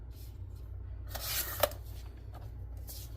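Paper craft piece being cut in half with scissors: a short burst of crisp snipping and rustling close by, with a brief sharp click mid-cut, against a quiet low hum.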